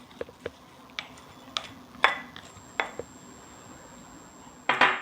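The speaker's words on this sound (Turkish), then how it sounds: "Önce yağla baklayı karıştırıyoruz." Fresh fava beans tossed with oil in a bowl, a quiet sequence of light clinks and scrapes from a spoon against the dish, spaced irregularly with a louder rattle at the end.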